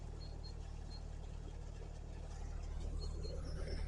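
A boat engine runs steadily with a few revs on, a low continuous drone that swells slightly louder toward the end, heard alone without talk.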